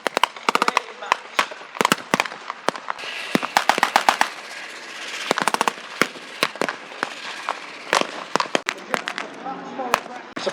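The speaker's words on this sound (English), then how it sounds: "it is only a machine gun, but that is a rate of fire that no one can really match." A machine gun fires sharp, loud bursts of rapid shots at an outdoor WWII battle display at a tank show, interrupted by pauses, with crowd noise and a commentator's voice between bursts.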